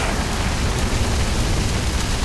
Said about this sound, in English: Oh, it's hailing!